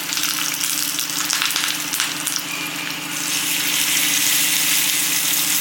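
Curry leaves and dried chillies sizzle loudly in hot oil during tempering for a Tamil chutney, a steady close crackling hiss that swells slightly toward the end, with no talk.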